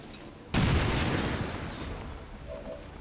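A frag grenade in the XCOM 2 video game detonates with a sudden loud boom after a brief quiet lead-in, then a rumbling blast that slowly fades.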